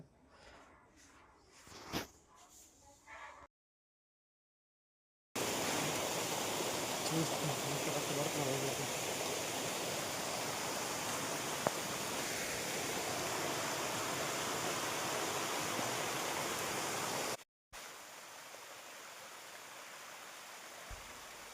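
Steady, dense roar of water pouring down a waterfall, loud and continuous for most of the stretch, cut briefly by silence, with quieter voices and handling noise at the start.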